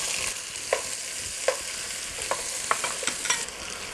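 Tomatoes hit a hot frying pan for an eggplant curry, giving a steady sizzle with a few distinct scraping stirs of a spoon against the pan, close and with no voices.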